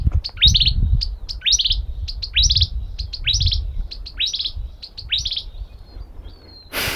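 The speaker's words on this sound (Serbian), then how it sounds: "Ptičice." Small birds chirp and tweet in repeated quick bursts of high, bright notes along a volcano trail, fairly close and steady over a low background rumble, with no talking.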